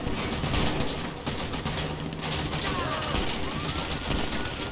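Rapid bursts of automatic gunfire ring out in GTA Online free mode, dense overlapping shots and crackle at close range with a busy game backdrop and a voice mixed in.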